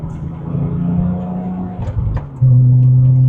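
A Porsche 996 Turbo drives under load, its engine droning and then jumping to a louder, harder pull after a gear change, heard close from inside the car.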